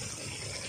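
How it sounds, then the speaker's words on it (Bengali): Water pours steadily into a pot of chicken curry, a brief continuous close-up gush. "এরপর আমি জল দিয়ে সিদ্ধ করে নেব। জল দিচ্ছি আমি"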